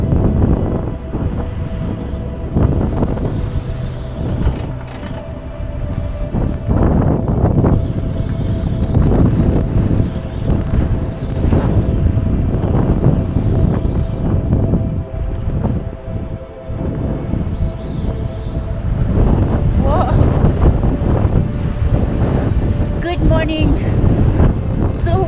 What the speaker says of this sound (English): The wind is so strong that I wish I have somebody, all 6 people sitting on this chairlift, because the chairlift is swinging.